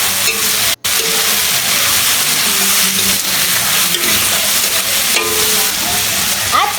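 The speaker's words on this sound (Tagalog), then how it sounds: "Igisa lang natin ito hanggang sa mag-slightly brown." Chicken meat sautés with garlic in a pan for pancit canton, a loud, continuous close sizzle, with occasional stirring scrapes and one brief dropout near the start.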